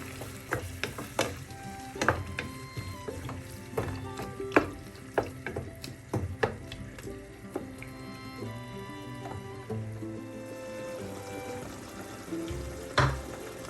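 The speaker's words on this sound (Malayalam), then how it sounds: "എല്ലാം കൂടെ ഒന്ന് മിക്സ് ചെയ്യാം" Chilli chicken in a pan with soy sauce, vinegar and hot water is stirred, giving a steady run of scraping and clinking strokes over a soft, constant sizzle. No one speaks.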